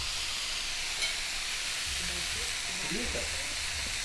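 Onion hitting a hot pan already holding bacon and calabresa sausage, a broad steady sizzle and hiss filling the foreground while a voice talks faintly underneath.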